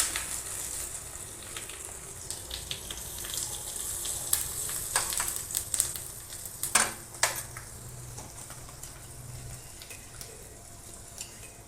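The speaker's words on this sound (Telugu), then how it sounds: "పోపు వేగిపోయింది" Crackling sizzle of spices and curry leaves frying in hot oil for tempering, a steady hiss broken by sharp pops and spatters that grow denser midway.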